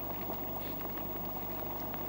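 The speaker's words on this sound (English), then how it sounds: "the boiling point of the liquid is just over 100 degrees Celsius" Liquid boils steadily in a refining demonstration of distillation, a continuous dense bubbling hiss with no pauses and no voices.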